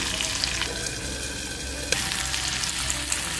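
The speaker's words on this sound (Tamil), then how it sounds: "பாருங்க, நல்லா வதங்கிட்டுருக்கு." Ingredients for a fish curry sautéing in a pan: a steady, close, hissing sizzle with a brief clink of stirring partway through and no talking.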